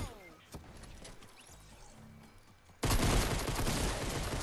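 Pistol shots in a shooter video game. Quieter in-game sounds and a voice give way to a sudden loud, dense burst of rapid gunfire that carries on to the end.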